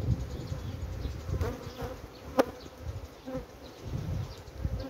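Honey bees buzz around a small colony in a mini hive, a close, uneven droning hum with brief louder passes and occasional handling knocks.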